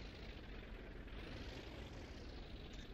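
A propeller warplane in the flight sim IL-2 1946 comes down onto a carrier flight deck, a steady loud engine drone and rushing wind that fills the whole moment without a break.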